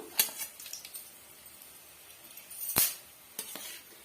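Dried red chillies and coriander seeds going into hot oil for a radish chutney, giving faint, scattered crackles and a few sharp spits and clinks over a quiet background.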